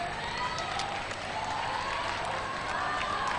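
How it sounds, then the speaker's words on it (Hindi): Spectators at a cricket ground during an NCP Trophy match clap from a distance, a soft, steady wash of applause and crowd noise that is thin and far off, with a faint voice at times. "तालियां बजाते हुए दर्शक हम सुन सकते हैं यहाँ पर ग्राउंड में"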